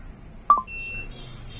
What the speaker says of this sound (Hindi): तो जब सिग्नल पे आप रखेंगे ड्रेन पे तो देखें इसकी हालत, तो देखें अब यहाँ सिग्नल आता जाता नजर आ रहा है और बीप की आवाज भी कर रहा है।